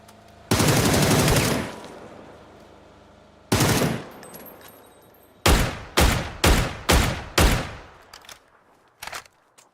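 Bursts of gunfire in PUBG: a long sustained volley, then a single loud blast and a rapid string of five evenly spaced sharp shots, closing with a fainter pair of shots, all loud and close with no talking.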